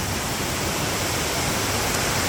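Steady broadband rush of Sangbay Falls, a waterfall in Pugo, La Union, filling the scene with continuous, even white-noise-like roar, loud and unbroken with no voices over it.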